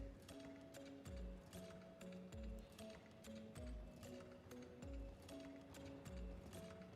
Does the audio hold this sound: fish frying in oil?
no